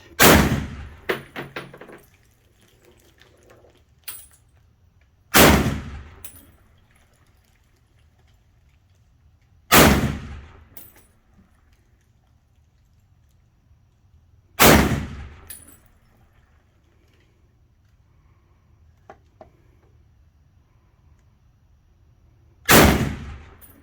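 Five loud, sharp M1 Garand rifle shots ring out outdoors, spaced about five seconds apart, each with a short echoing tail and near silence between.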